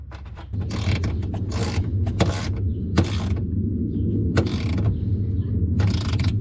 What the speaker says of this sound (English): just put your Phillips screw back in. Make sure it's snug and tight, but not too tight